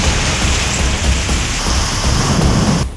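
Heavy rain pours steadily in Kalghatgi taluk, Karnataka, a dense, close hiss of downpour with low rumbling throughout that cuts off abruptly at the end.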